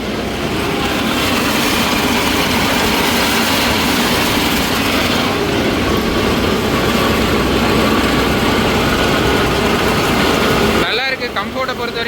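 A Mahindra Novo 755 CRDI tractor engine running loud and steady, picking up quickly with a dense, continuous rumble close by that cuts off abruptly near the end.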